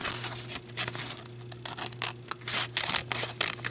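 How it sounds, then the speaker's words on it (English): Scissors snip around sticky material while making gingerbread embellishments, giving quiet close crisp cuts and paper crinkles in an irregular rhythm over a faint steady hum. "I'm going to cut all this sticky stuff off, and so I'm just going to cut around it like this"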